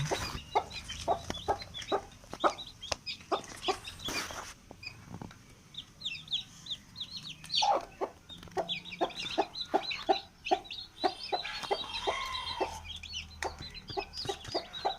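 Hens inside a closed box clucking and cackling in short repeated bursts, slightly muffled and close, with scratching and shuffling noises in between.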